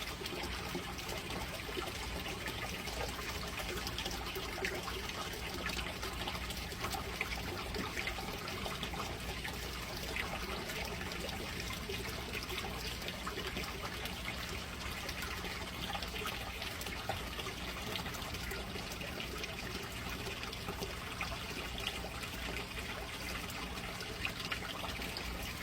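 Water draining steadily out of a garden growbed, a continuous trickling and gurgling wash that holds an even level throughout with no talking.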